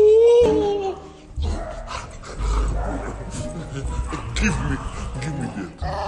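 A dog barks and whimpers indoors among people talking, with short yips and a howl-like cry rising through the busy household noise.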